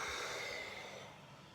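A long, steady exhale during a yoga cat pose, a soft breathy rush that is loud at first and fades gradually, heard alone and close up.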